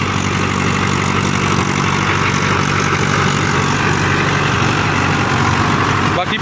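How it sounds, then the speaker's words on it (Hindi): A Mahindra 555 tractor with a PLF diesel engine runs at a steady idle in a muddy field, a loud, constant low rumble throughout with no break. "ये मॉडल है किसान वीरों 555 का, PLF इंजन वाला, power and long life engine है।"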